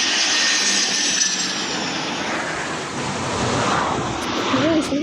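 An aircraft flies over an air force station at Tambaram, a broad roaring rush that swells and fades as it passes overhead, loud against wind noise.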